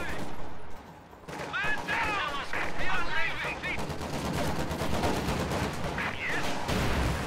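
Battle gunfire in the strategy game Company of Heroes 2, with scattered rifle and machine-gun shots crackling through layered combat noise and whistling sounds over about seven seconds, at moderate level without clear talk.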